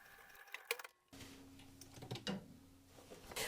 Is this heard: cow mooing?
no